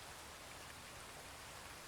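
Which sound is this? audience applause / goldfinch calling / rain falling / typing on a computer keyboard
rain falling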